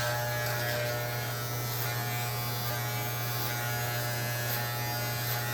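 Electric hair clipper fitted with a 1.5 guard buzzes in a steady, continuous hum while blending a fade haircut, close and constant with no talking.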